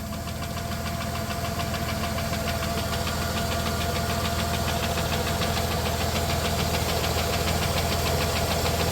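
A 1993 Plymouth Grand Voyager SE engine, revived after 18 years abandoned, runs continuously with a worn, knocking cam, giving a loud, steady rapid ticking knock over a constant idle drone throughout.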